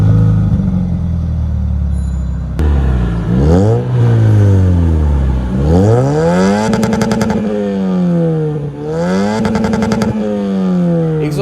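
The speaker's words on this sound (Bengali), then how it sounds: "এটা হচ্ছে রিমোট কন্ট্রোল এক্সস্ট, ব্র্যান্ডের নাম হচ্ছে রিমাস। খুবই স্মুথ একটা সাউন্ড।" A 2005 Toyota X Corolla fitted with a Remus remote-control exhaust revs repeatedly, the loud, close engine note sweeping up and down in several long throttle blips with no talk.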